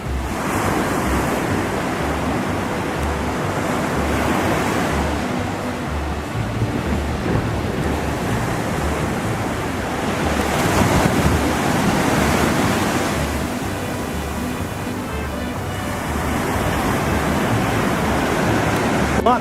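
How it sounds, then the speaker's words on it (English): Ocean surf rolls in continuously on a secluded beach in Puerto Vallarta, with waves swelling and crashing in a broad roar every few seconds, mixed with some wind. "A lot noisier because of the waves."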